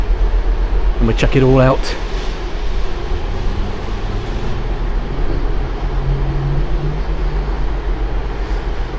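Idling trains at the platforms of Sheffield station give off a low, steady rumble and hum, with a brief tonal blare near the start, while someone talks over them.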